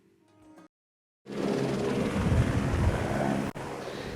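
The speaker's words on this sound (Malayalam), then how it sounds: "ശാന്തിഗിരി ഫെസ്റ്റിവലിനെത്തുന്നവർക്ക് ആകാശ കാഴ്ചകൾ ഒരുക്കി ഹെലികോപ്റ്റർ സർവീസ് തുടങ്ങി" Sightseeing helicopter at the Santhigiri festival helipad in Kerala. After a moment of silence a loud, steady rotor-and-engine roar cuts in and holds close by, with one brief dropout before it resumes.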